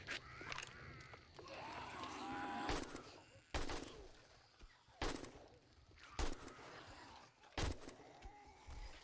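Repeated gunfire in 7 Days to Die during a horde night against a zombie horde, with loud sharp shots spaced a second or so apart over an ongoing rumble and clatter of game noise.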